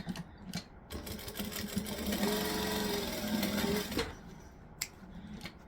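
A sewing machine runs in a steady continuous burst, stitching across a drop-in lining, preceded and followed by a few sharp clicks and handling knocks; no one speaks.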